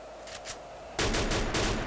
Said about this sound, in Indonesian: Oh, sudah mengeluarkan tembakan, ternyata itu tembakan yang sangat sia-sia.